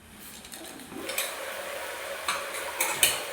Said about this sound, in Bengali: তো একটু ঢাকনা দিয়ে দিয়ে ভালো করে ভেজে নিই।